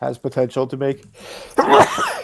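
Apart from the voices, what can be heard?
sneeze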